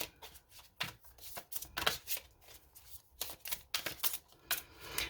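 A deck of tarot cards shuffled continuously by hand, with dense papery riffles and slaps in an uneven rhythm, close-up and soft, and no one speaking.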